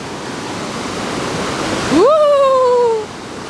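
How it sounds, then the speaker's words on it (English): A river rushes steadily as a broad, loud roar of water, with a short whistle-like tone rising and then gliding down over it partway through. "And this river I like a lot."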